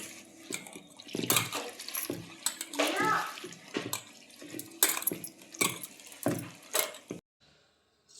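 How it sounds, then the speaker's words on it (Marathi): Fresh farm-picked fenugreek leaves being washed by hand in clean water for village-style methi paratha, with repeated splashing and sloshing bursts close by, a voice heard in the background, ending in near silence. "मेथी आपण आता स्वच्छ पाण्याने धुवून घेऊ."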